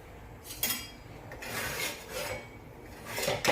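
Bhakri flatbread dough being patted and shaped by hand, giving soft rubbing, slapping strokes in a few uneven bursts, close and quiet with no talking.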